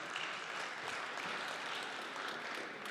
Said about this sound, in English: Hand of applause for Andreas.